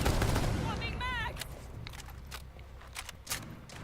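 Ela's gun in Rainbow Six Siege fires in quick, light cracks and short bursts. A voice talks over the start, then scattered shots follow at a moderate level against a busy game background.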